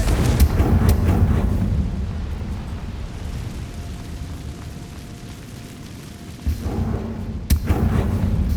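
Confringo fire spell blasts in the Hogwarts Legacy video game, heavy booming explosive rumble throughout, loud and sustained, with sharper impacts near the end.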